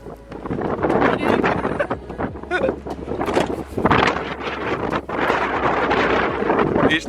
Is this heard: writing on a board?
no